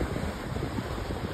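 Ocean waves at Fort Wadsworth Beach make a brief, steady rushing wash, with wind buffeting the microphone.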